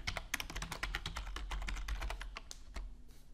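Rapid typing on a computer keyboard, dense clicks of close keystrokes in quick bursts that slow and thin out toward the end, with no voice.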